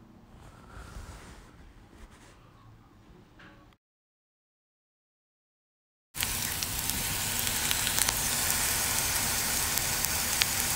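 Garlic and ginger paste sizzles in a pan with softened onions, a steady loud hiss of frying that starts abruptly after a brief silence and carries on evenly, following quieter kitchen sounds earlier.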